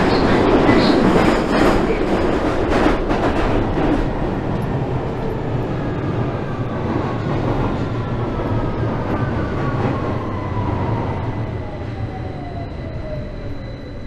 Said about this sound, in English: Victoria Line train to Brixton.